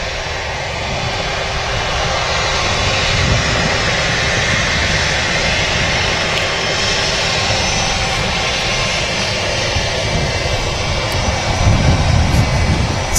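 An airliner taxis quickly at Manchester Airport, a steady loud jet engine roar with broad rushing noise that swells slightly toward the end, no talking.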